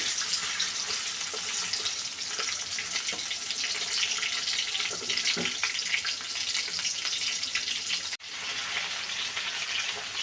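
Potatoes frying in hot oil with panch phoron five-spice give a loud, continuous close sizzle, with one brief dropout near the end.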